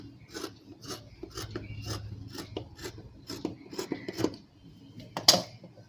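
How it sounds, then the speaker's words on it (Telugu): Scissors cutting blouse cloth along a marked line make a regular series of crisp snips and rasping strokes, close and moderately loud, with a sharper cut near the end and no speech. "ఇప్పుడు చుట్టూరు కూడా కట్ చేసుకోవాలి."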